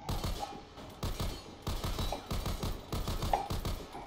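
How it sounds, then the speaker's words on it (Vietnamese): An automatic sniper rifle in the Warface video game fires continuously in short rapid bursts, repeated volleys of sharp shots with brief gaps between them. "bạn nhấp chuột là nó bắn liên tục luôn đấy. Bắn liên thanh luôn đây nè."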